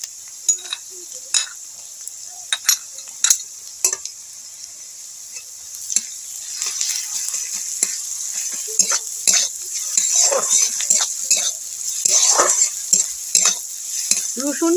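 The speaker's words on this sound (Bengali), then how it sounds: "রসুন, পেঁয়াজ আর কাঁচা লঙ্কা কুচি, ওই তিনটে আমি ভালো মতো ভেজে নেব" Crushed garlic, onion and chopped green chilli fry in mustard oil, starting with sparse sharp crackles and scrapes of a utensil, then building into a steady, louder sizzle with frequent pops.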